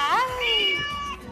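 Cats that fell through a ceiling in a judicial building give a single close, drawn-out meow that rises, holds and falls over a faint noisy background.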